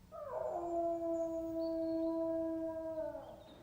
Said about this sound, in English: they just clearly hear a dog howling